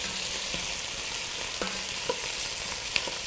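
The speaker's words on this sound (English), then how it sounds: "Oh, the potatoes are browning up." Potatoes sizzle steadily as they brown in a pan for zucchini soup, a close, even frying hiss with a few scraping stirs and small pops, no talk.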